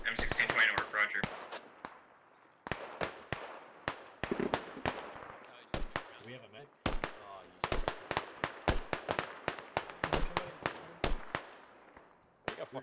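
Sharp, loud weapon shots crack repeatedly in the video game Squad, including anti-tank rounds fired during a firefight, with rapid irregular bursts and gaps and voices talking over the combat.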